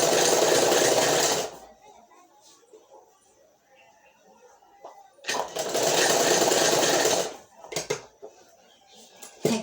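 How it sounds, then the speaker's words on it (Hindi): A sewing machine running a loose basting seam on a kurti's half collar, two loud steady bursts of stitching separated by a quieter gap with faint handling sounds. "कच्ची सिलाई लगा लेते हैं।"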